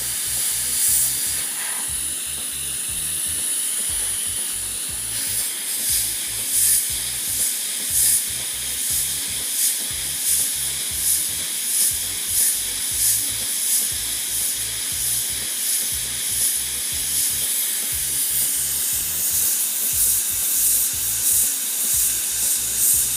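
Steady airy hiss of a hot air plastic welder running a T-joint weld along the edge of a plastic part, continuous with a soft repeating low pulse underneath and no talking.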